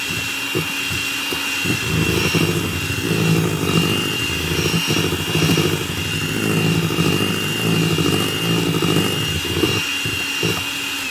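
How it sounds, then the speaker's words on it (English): An electric bowl mixer beats cake batter made with sugar, butter and six eggs, producing a loud, steady whirring motor drone that runs the whole time with slight rises and falls, close up and without talk. "Get my bowl mixer and do things that way."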